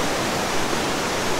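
A mountain stream on the trail from Olangchung Gola to Ghunsa rushes steadily, a dense, even hiss of flowing water heard close up with no voices.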